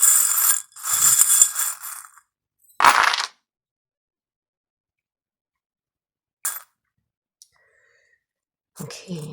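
Small charms and dice are cast for a fortune reading, giving quick metallic clinks and clattering bursts separated by long silences, close and fairly crisp.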